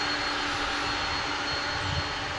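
A jet airliner bound for Louisville at DFW International Airport, its engines producing a steady, fairly distant roar with a thin whine, unbroken for the whole moment.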